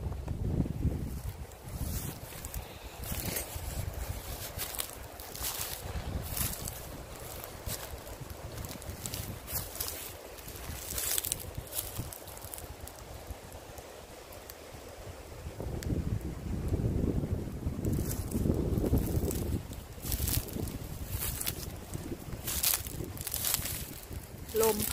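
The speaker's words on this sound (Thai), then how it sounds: "ลมพัดอย่างแรงอ่ะแรงมาก" Strong wind blows outdoors, gusting and buffeting the microphone in uneven surges with rumbling low noise, louder toward the end, while a person talks at times.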